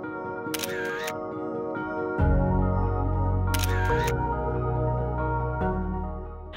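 A single-lens reflex camera fires two close, crisp shutter bursts at wildlife by Loch Lomond, each a quick clatter over a loud steady background hum.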